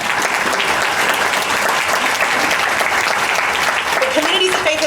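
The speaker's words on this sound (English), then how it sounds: "Let's have a round of applause for that." A keynote audience breaks into loud, sustained applause, a dense wall of clapping and crowd noise that stays strong for the whole stretch, with faint voices rising near the end.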